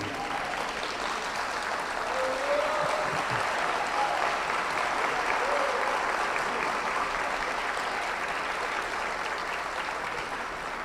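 A church congregation stands and applauds newly baptized members welcomed at a service: sustained, even clapping from many hands in a large room, moderately loud, with a brief murmur of voices early on.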